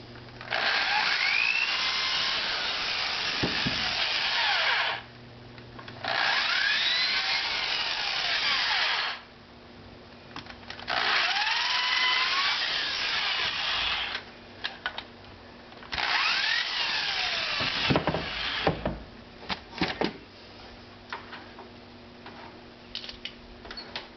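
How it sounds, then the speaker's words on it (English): A power drill bores pilot holes in wood in three long whining bursts that rise and fall in pitch, separated by short pauses with small clicks and handling knocks. "This is just going to make pilot holes for my screws so that the screws won't split out the wood."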